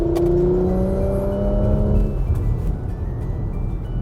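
A 2020 Porsche Macan GTS accelerates hard, a loud, near engine note rising in pitch through the first two seconds, then fading into a rumbling whoosh as it settles.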